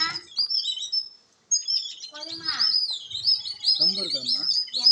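Sick sparrow that cannot fly, sitting close by and chirping in rapid high twittering bursts with a brief pause, while people talk quietly nearby.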